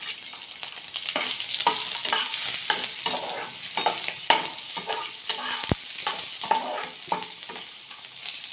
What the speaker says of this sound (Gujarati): અડદની દાળ છે એ એકદમ બ્રાઉન કલરની થઈ જાય એટલે આપણે એની અંદર નાખી દઈએ ડુંગળી.